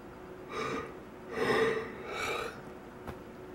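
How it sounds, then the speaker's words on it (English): A tired person yawns late at night, close to the microphone. Drawn-out breathy swells rise and fall, ending in a short exhale. "I am tired. I'm about to yawn."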